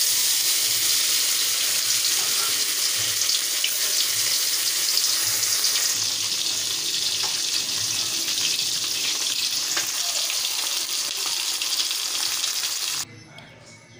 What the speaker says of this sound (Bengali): তেল গরম হয়ে গেছে, এবার এতে একে একে মাছগুলো দিয়ে দেবো।